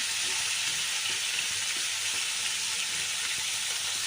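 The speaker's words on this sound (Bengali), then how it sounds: "আলু আর বিট একসাথে ভেজে নেবো সুন্দর করে ভাজা ভাজা করব" Potatoes and beetroot fry together in a pan, giving a loud continuous sizzle with faint intermittent stirring clicks, steady throughout with no talk.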